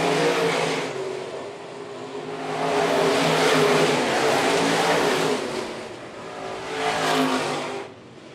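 Stock cars racing on a dirt track at Phillips County Raceway, engines roaring loud as a pack sweeps past, fading, then surging again with another close pass near the end.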